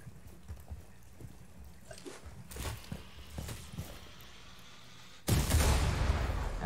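In a Rainbow Six Siege match, soft footsteps and faint scattered gunfire precede a sudden loud grenade blast near the end, leaving a sustained rumbling roar that continues to the close.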